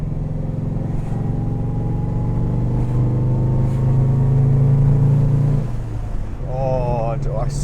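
Lancia Flavia engine revving up through the gears with a long-throw gearbox, rising and falling engine note close by, with a brief drop between shifts and another rise near the end.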